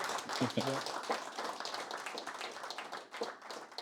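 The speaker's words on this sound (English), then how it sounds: "Everybody give him a good round of applause." Clapping from an audience at a local real estate investor meetup, a dense steady patter of many hands filling the whole stretch, with a brief voice near the start.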